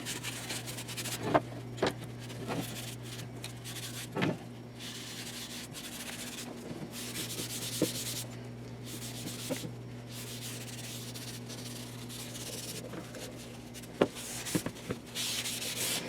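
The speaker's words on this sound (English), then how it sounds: "Now I'm wiping any excess off now." A cloth wipes excess finish off the wood of a guitar kit in soft, continuous rubbing strokes with occasional small clicks, over a low steady hum and no talk.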